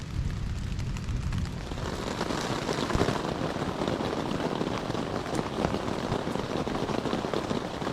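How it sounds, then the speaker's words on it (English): Dense, steady rain falls continuously in the Maine woods, a broad hissing patter with no voices. "Here comes the rain."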